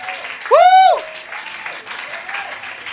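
A church congregation applauds in a steady wash of clapping, with a single voice whooping out loud near the start over the crowd.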